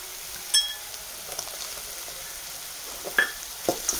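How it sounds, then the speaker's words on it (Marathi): Onion and peanuts fry in hot oil for an upma tempering, a soft, steady sizzle close by with a few light clinks and stirring sounds and no talking. "आपल्याला कांदा छान परतून द्यायचा आहे आणि त्याच्यामध्ये आता टाकायचं आहे आपल्याला शेंगदाणे"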